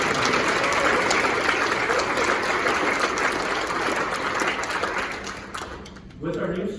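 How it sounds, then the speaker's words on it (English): An audience gives a round of applause, a dense continuous clapping that holds strongly and then thins out and stops, with a voice beginning to talk as it fades. "we need to share a round of applause for the hard work of our members here"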